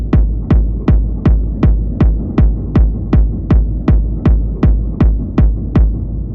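A techno bassline with no pre-delay effect, pulsing in a steady, even rhythm of about fifteen loud, punchy low thumps over a continuous deep hum, alone with no voices.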